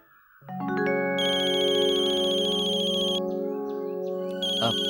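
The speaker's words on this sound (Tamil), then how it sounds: "ஃபோன்." A telephone ringtone starts after half a second and plays a loud, sustained, melodic electronic ring that carries on to the end with no voices over it.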